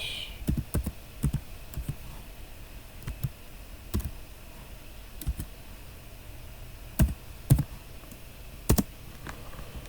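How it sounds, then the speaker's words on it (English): Computer keyboard keys tapped while entering a password at a Linux terminal, a scattered run of light clicks with short pauses and a few louder strokes, close and alone over faint background hiss. "now I'm going to type in my password."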